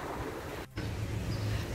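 Wind gusting by Lake Geneva near the small town of Yvoire: a steady broadband rush buffeting the microphone, cutting out briefly for an instant before resuming with a low rumble.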